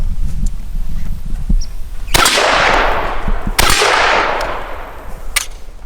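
Two loud live-fire shots from an M1 Garand or M1 Carbine rifle crack sharply with long echoing decays, followed by a fainter third report over steady background noise.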